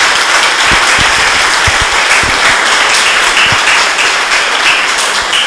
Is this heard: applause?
yes